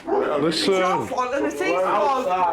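A dog barks and whimpers in a house during a drunken domestic disturbance in Blackpool, with short yips mixed under loud, overlapping arguing voices throughout.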